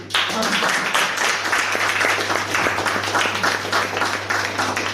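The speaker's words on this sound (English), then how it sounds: "A round of applause, people." An audience at a speakers forum breaks into sustained applause, a steady wash of many hands clapping over a low constant hum, with a faint voice beneath.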